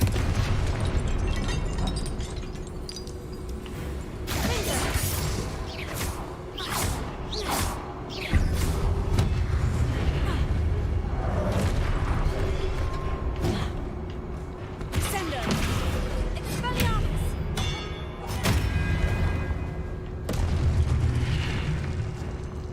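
In the Hogwarts Legacy video game, the Confringo fire spell sets off a run of booming blasts and bursting pops that follow one another in quick succession over continuous game ambience.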